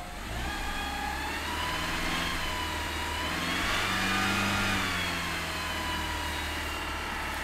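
A 1989 Chrysler Daytona engine runs steadily after a cold start, a continuous close idle hum with a faint rise in revs midway and no voices.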